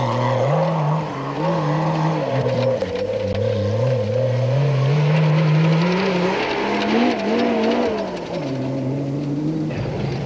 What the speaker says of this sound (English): Philip Alun and Richard Leek, whose powerful, but not always reliable, turbocharged Toyota Hilux had moved up to fourth overall and first in Class 6.